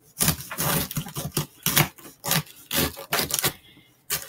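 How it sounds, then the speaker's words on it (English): A knife chops through cabbage on a board in a steady series of firm, close thuds, about a dozen strikes with brief gaps, loud and alone without talk. "you need a total of 3 cups of chopped up cabbage to put in this particular recipe. Just going to cut it."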